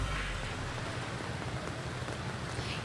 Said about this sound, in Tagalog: lumalakas na ang ulan dito sa Valenzuela